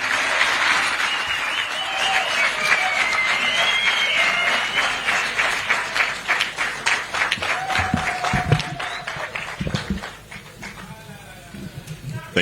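A crowd applauds the President of the Republic of Zambia, dense clapping that thins toward the end, with whistles, cheers and speech mixed in.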